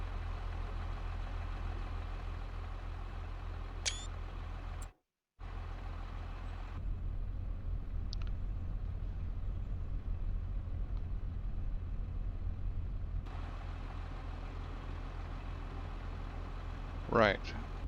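A tractor engine in Farming Simulator 25 drones steadily at low pitch throughout, with a brief dropout partway and short hissing, squealing bursts near the start and end, like air brakes.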